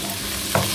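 Cherry tomatoes drop into a pan of sautéed garlic and ginger for ginataang tulingan with pechay, giving a brief close stir-and-sizzle burst over a low frying hiss.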